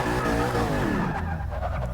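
A 2015 Lexus RC F in Forza Motorsport 6 drifts with its engine droning loudly and tires squealing in a sweeping, pitch-bending slide that fades as the car straightens out.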